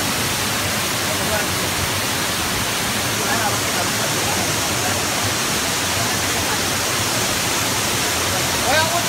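Waterfall roughly 80 to 90 metres high at Pearl Valley on Mount Wuyishan, a dense, even roar of falling water that holds steady and loud throughout.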